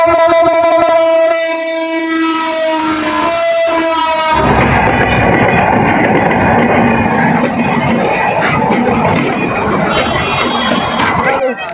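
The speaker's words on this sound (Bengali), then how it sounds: "এইভাবেই ট্রেন যাওয়ার পরে ট্রেনের দুধারেই একটা বিনোদন কেন্দ্র রয়েছে" A train passes on the railway line en route to Hyderabad, opening with a loud sustained horn blast. It then gives way to a heavy rumbling clatter of wagons rolling by close at hand for the rest of the clip.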